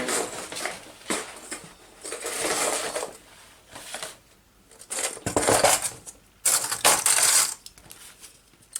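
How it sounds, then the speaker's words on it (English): Rummaging through a container of metal paper clips at a craft table, with bursts of small clinking and rattling metal, several loud handfuls separated by brief pauses, close and without talk. "I'm going to find some paper clips"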